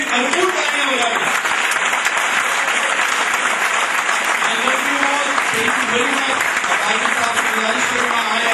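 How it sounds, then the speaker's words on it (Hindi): A large event crowd in Rawalpindi, Pakistan, gives loud, sustained applause: dense, continuous clapping that fills the whole stretch at close range. "अपने लिए भरपूर तालियां बजाएं"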